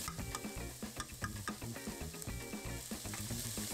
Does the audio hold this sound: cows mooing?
no